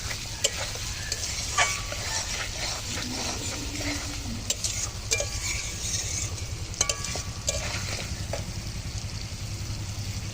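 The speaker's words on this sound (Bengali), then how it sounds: "এখন জল দিয়ে দেবো।" Potato curry with spiced oil sizzles and bubbles in a pan on a brick stove as water is added, with steady frying hiss and occasional stirring clinks throughout, close and moderately loud.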